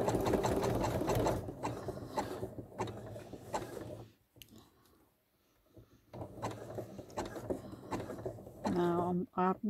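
A sewing machine stitches a rope bowl, running in quick whirring bursts for a back tack, with a pause midway and a voice talking over much of it.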